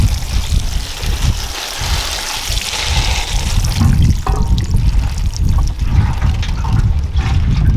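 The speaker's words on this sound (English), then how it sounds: "You can use watering can" Watering can pouring water onto soil in papaya seed polytubes, a loud continuous splashing trickle that shifts in tone as the stream moves, close and uninterrupted.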